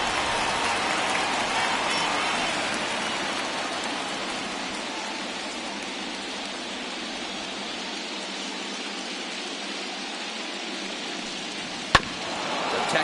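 Steady rain pours on a baseball field in the video game MLB The Show 21, a dense, even hiss throughout with one sharp click near the end.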